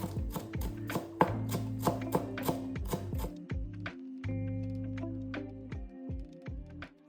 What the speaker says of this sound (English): Chopping the dill.